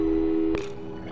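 A steady telephone busy tone from the video game Portal 2, one sustained electronic note held for most of a second, briefly overlapped by a soft noisy burst before it fades a little.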